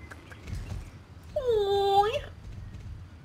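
A single drawn-out, high-pitched cat meow rings out clearly over a low background murmur.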